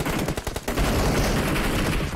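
Rapid gunfire from the mobile battle-royale game PUBG Mobile: a burst of separate shots that runs into dense, sustained automatic fire, loud and close, with no talking over it.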